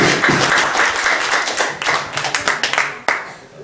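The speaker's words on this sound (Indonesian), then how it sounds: "kita beri aplaus" An audience claps and applauds at a general seminar on civil law advocacy strategy: a loud, steady patter of many hands that breaks into scattered individual claps and fades out near the end.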